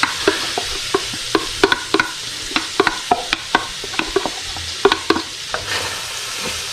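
Onion, celery and garlic sweating in a pan for corn chowder, steady soft sizzle punctuated by repeated sharp stirring scrapes and clicks at an irregular rhythm.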